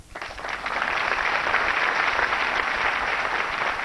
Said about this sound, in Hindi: एक बार फिर जोरदार तालियां हो जाएं